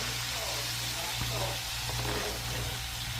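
Red snapper pieces fry in hot oil with a quiet, continuous sizzle over a low steady hum. There are a couple of faint knocks from handling the fish.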